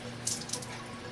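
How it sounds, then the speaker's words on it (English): Water running from a bathroom tap while someone washes their face, a soft steady hiss with a couple of brief splashy bursts as hands move through the stream, close and alone. "I'm just gonna wash my face here right now."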